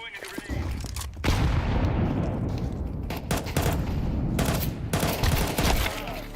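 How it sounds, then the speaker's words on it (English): A grenade detonates in a shooter video game, a loud booming blast near the start followed by dense, sustained gunfire and further explosive crackle, with a brief lull near the end. "Throwing a grenade."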